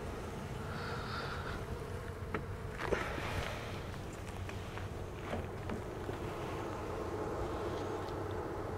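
Honeybees buzzing at an open hive, a steady low droning hum holding through the whole stretch with occasional nearer passes, fairly faint and without talk.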